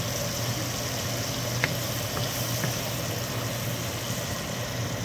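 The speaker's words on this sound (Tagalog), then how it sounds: "Atin muna i-turn on ang exhaust fan." A kitchen exhaust fan runs steadily as a constant broadband whir with a low hum, unbroken and fairly loud throughout, with a few faint clicks.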